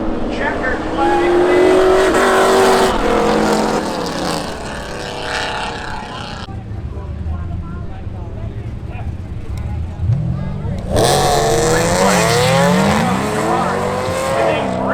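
Race cars at Seekonk Speedway spectator drags roar close by, their engine pitch sweeping up and down as they pass. A loud announcer's commentary runs over the engines.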